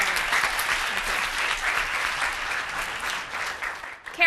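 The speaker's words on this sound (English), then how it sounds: "Let's give Karen a round of applause." Sustained audience applause for keynote speaker Karen at the close of a keynote talk, a dense, even wash of many hands clapping that holds steady for several seconds before cutting off abruptly.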